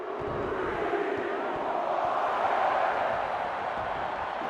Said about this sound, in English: The crowd chants along with the champion as she stomps.